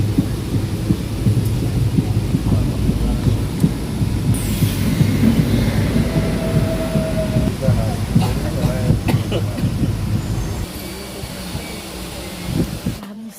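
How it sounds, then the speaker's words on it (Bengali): A train pulls into a railway station with a deep rumbling roar and clattering wheels. Voices and station bustle can be heard before the noise settles and drops off near the end. "এবার সত্যি সত্যি আমাদের ট্রেন আসছে দেখো"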